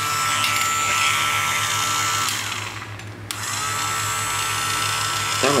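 A small Japanese electric hand drill for fine bits runs with a steady high motor whine, loud and close, dipping briefly in the middle before spinning back up.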